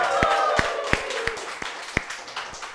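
Scattered clapping greets Jakarta's Deputy Governor Rano Karno at a podcast taping, a few sharp, separate claps spaced out over a background murmur of people.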